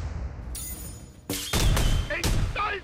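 Fire bow attack in South Park: The Stick of Truth, a few sharp loud bursts and whooshing impacts in quick succession after a brief swell, with crackling bursts of game effects toward the end.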